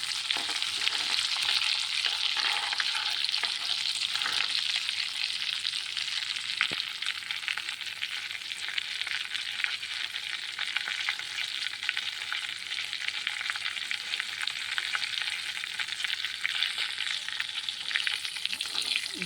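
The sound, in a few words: cardamom powder and cashew-almond crumbs frying in hot oil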